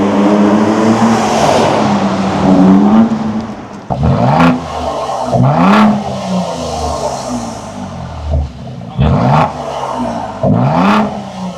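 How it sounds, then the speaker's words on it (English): A powerful Ford Ranger Raptor engine with a Milltek Sport exhaust roars and revs as the truck sweeps past in several loud, close flybys, pitch rising and falling with each pass. "You're gonna hear some flybys after this, especially when the engine's hot."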